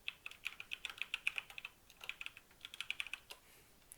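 Quick bursts of typing clatter on a computer keyboard, crisp and close, with brief pauses between runs of keystrokes and no talking.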